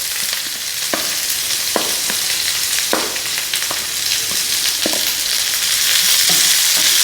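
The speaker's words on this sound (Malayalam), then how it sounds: "സവാള ഇട്ടിട്ട് നല്ലോണം മൂക്കണം," Sliced onions frying steadily in a hot pan for a Kerala prawn roast, a continuous close sizzle broken by a few sharp spoon scrapes and stirs.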